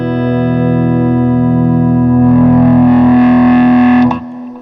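A Les Paul guitar played through a Harmony H650 amp at full volume through an attenuator rings out as a loud, distorted sustained chord, swelling slightly before being cut off near the end.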